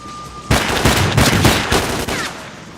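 Rapid automatic gunfire and explosive shelling from the video game S.T.A.L.K.E.R.: Clear Sky, a loud dense burst of repeated sharp shots lasting over two seconds after a faint tone.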